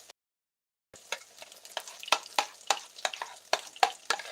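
Sliced bananas fry in a pan, crackling and popping in irregular sizzling bursts after a moment of silence, close and fairly quiet, with stirring noises mixed in.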